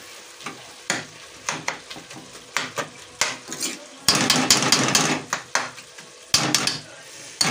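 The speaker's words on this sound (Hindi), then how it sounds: "मैंने सालन को अच्छी तरह भूना" Keema curry with spinach fries and is stirred in a pan. Repeated scraping strokes of a utensil against the pan sit over a sizzle that swells loudly midway. The sounds are close and come in irregular bursts.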